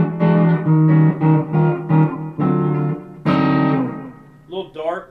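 A Squier 51 Black Beauty electric guitar through a humbucker on a clean, darker jazzy tone, playing a series of close, ringing chords and notes with short pauses between them, fading out at the end.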